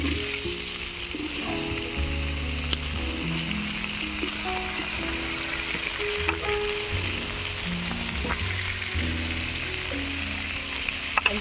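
Mixed vegetables with peas and spring onion stalks fry together in a pan, making a continuous, moderate crackling sizzle with occasional light scrapes and taps, without any talking.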